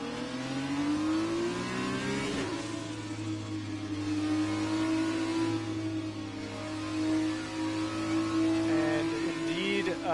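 F2 race cars at Monaco in a racing video game whine steadily at high revs, with engine pitch rising and falling through shifts and a brief sharp transition midway, continuous and loud with no speech.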